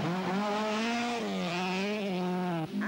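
A Rothmans Opel Manta rally car on a 1983 RAC Rally stage, its engine droning loud and close with pitch wavering as the driver works the throttle through corners, a brief dip near the end.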